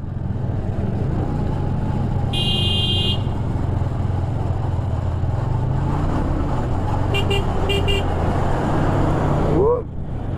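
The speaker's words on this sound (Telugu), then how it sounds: "ఓకే, ఇప్పుడు లారీని అయితే ఓవర్టేక్ చేయాలి." Vehicle traffic while overtaking a lorry on an uphill road: a steady engine and road rumble throughout, with two bursts of horn honking partway through, close and loud.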